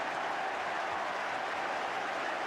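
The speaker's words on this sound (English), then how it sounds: "The crowd celebrate" A football crowd at a Luton Town versus Leicester match roaring and applauding after a goal, a dense, steady wash of cheering and clapping from a large stadium audience.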